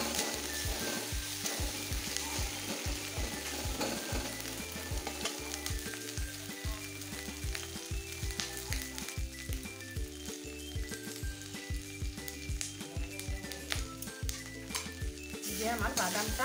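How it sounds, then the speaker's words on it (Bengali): Chopped peanuts fry in a pan for egg curry, giving a steady close sizzle broken by the rhythmic scrape and clatter of a spoon stirring throughout. "এখন আর একটু ভেজে দেবো।"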